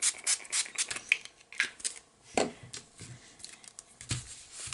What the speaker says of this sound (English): So give it a good scrub down, and then that's when I pull in my Stampin' Scrub.